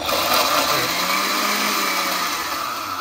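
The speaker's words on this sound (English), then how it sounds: "Now Dad's doing the blender." Electric blender whirring continuously as it blends an Oreo milkshake in a home kitchen, a loud steady motor drone throughout.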